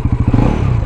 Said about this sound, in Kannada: ಇಂಜಿನ್ನ ಸೌಂಡ್ ಈ ಥರ ಕೇಳಿಸುತ್ತೆ.